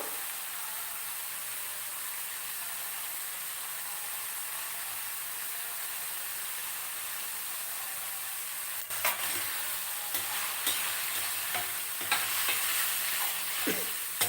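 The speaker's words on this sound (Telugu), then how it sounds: "అలాగే చిన్న అల్లం ముక్క కూడా వేస్తాము" A small piece of ginger drops into a hot pan: a low, steady frying hiss, then sharper crackles and spits join in partway through, close and fairly quiet.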